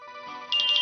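A phone rings briefly and faintly, its soft tone rising into a sharper repeating electronic trill near the end.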